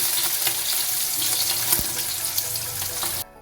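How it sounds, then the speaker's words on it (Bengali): Tengra fish frying in oil over a medium flame until crisp, giving a steady loud sizzle throughout with a few louder crackles before the sound cuts off abruptly near the end. "গ্যাসটা মিডিয়াম ফ্লেমে রেখে মাছগুলোকে কড়া করে ভেজে নেব।"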